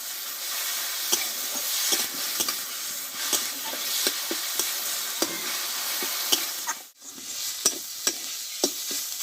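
Cauliflower stems stir-frying in oil with turmeric, a steady close sizzle broken by repeated sharp scrapes and clinks of a spatula against the pan, briefly dropping quiet near the end.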